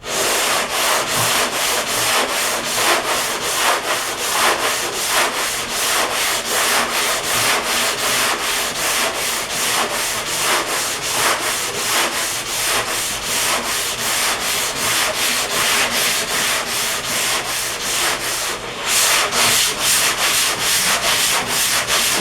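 A sanding block scrubs back and forth over body filler coated with guide coat on a car body panel, in fast, even crisscross strokes. The rhythmic rasping stays close and steady throughout.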